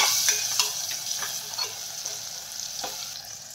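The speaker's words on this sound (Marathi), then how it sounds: "थोडीशी हळद यामध्ये टाकून घेऊया आणि हे छान तळून घेऊया।" Tomatoes and turmeric fry in a pan for masala khichdi, giving a steady close sizzle broken by light scraping stirs and small pops, with no voices.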